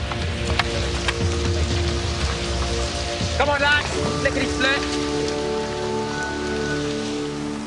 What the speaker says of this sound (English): It's amazing because it's pouring of rain.